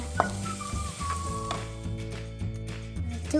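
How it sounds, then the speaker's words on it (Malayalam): Ginger garlic paste sizzling in hot butter while it is stirred for butter chicken, a steady close frying hiss with soft scraping stir sounds running throughout. "ചൂടായ ബട്ടർക്ക് ഇഞ്ചി വെളുത്തുള്ളി പേസ്റ്റ് 2 സ്പൂൺ ചേർത്ത് കൊടുക്കുക. ഇഞ്ചി വെളുത്തുള്ളി നന്നായിട്ട് ഇളക്കി കൊടുക്കുക."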